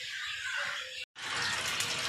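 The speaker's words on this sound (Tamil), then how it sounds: "இப்போ அதுக்கு அடுத்து வந்து நம்ம நல்லா இதில் தண்ணியை ஊற்றி நல்லா கலந்து விட்டுறலாம்." Water pours into rice flour batter for gobi 65 in a steady, hissing stream that briefly stops and then resumes just as strongly.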